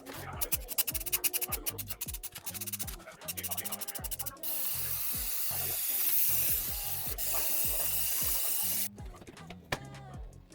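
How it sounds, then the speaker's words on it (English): A spray can of primer hisses in a long, steady burst onto cardboard, with scraping and handling noises before and after. "I'm gonna spray the cardboard area with this primer right here."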